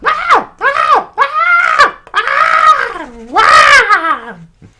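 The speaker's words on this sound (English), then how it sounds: "You were screaming again." A person screams from a bad dream in a series of shrill, strained vocal wails, several separate bursts with rising and falling pitch, loud and close, ending in a long falling cry.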